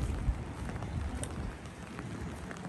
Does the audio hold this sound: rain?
yes